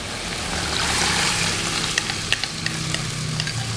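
Coconut milk is stirred into luffa cooking in a pan, giving a steady close sizzle with a few light scraping taps of a utensil toward the end.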